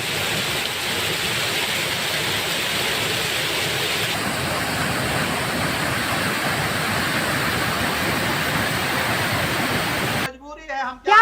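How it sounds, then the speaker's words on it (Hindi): Fast-rushing waterfall in flood, a steady broad roar of churning water close by that holds at full strength, with a brief break near the end. "उसी दौरान झरने में तेजी से पानी आया।"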